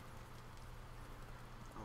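Faint, steady horse hooves beating in the game Witcher 3, low and muffled under ambient game noise for a short stretch.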